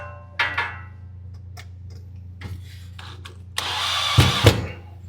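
A DeWalt power drill works on camera infrastructure mounting, with scattered clicks and knocks, a short whir, then a louder sustained drill burst near the end with a couple of sharp thumps.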